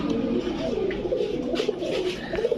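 Several Pakistani Teddy and Shahranpuri pigeons at a sale coo nearby, overlapping low, throaty calls repeating steadily with no talk over them.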